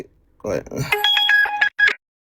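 A telephone rings during a religious talk on Orthodox teaching: a brief melodic, tonal ring of about a second follows a short snatch of voice, then stops.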